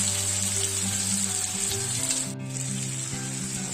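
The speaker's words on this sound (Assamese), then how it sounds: "এই মেইন মালটো ভাজি আছো এতিয়া" Local pork frying in a pan for a home-cooked dish with black lentils, giving a steady close sizzle with a faint low hum beneath and no talking.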